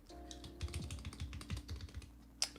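A NovelKeys NK87 tenkeyless mechanical keyboard being typed on, a quick run of crisp, close clicky keystrokes over about two seconds, ending in one sharper clack.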